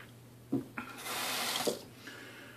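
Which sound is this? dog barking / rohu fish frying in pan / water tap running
water tap running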